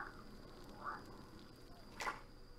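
Toads croak in the video game Pine: a few short, faint calls spaced apart over a steady ambient hum, with a slightly louder croak near the end.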